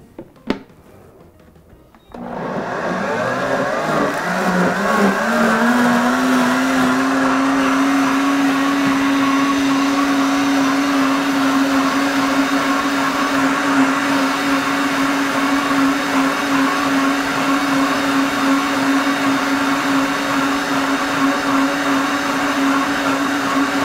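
After a brief thump, a blender whirs up and runs steadily at high speed, loud and close, with a constant motor drone and no pauses.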